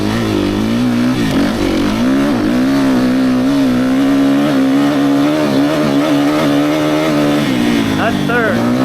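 A 2019 Suzuki RMZ-450 motorcycle accelerates hard in second gear, its engine note holding a loud, steady rasp that climbs and shifts in pitch close by, with someone talking over it.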